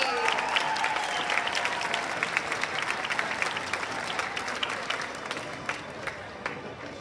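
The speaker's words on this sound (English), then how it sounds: "Another round of applause for the Universe Advisory." Sustained applause from a large audience at a 2022 culmination ceremony for a group called the Universe Advisory, dense and steady for the whole stretch with a faint voice briefly audible near the start.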